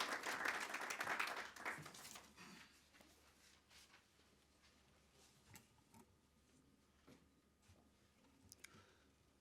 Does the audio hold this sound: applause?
yes